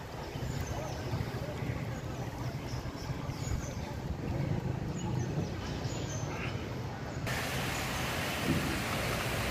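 Heavy rain in Karaikal, a dense continuous downpour hissing and pattering across the whole stretch, with faint voices and occasional sounds mixed into the wash.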